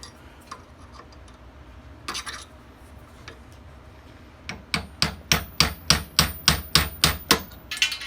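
A run of sharp metallic hammer taps on a punch, about a dozen in steady rhythm, close by, while rebuilding a 1968 Chevelle door hinge, following a few scattered knocks and quiet handling.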